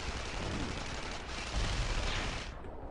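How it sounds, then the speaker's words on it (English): Mortar explosions in the video game Tribes: Ascend, a dense, rumbling barrage of booms in busy match audio, sustained at moderate loudness without a clear pause. "ZOOEY is coming in with some really well-aimed mortars."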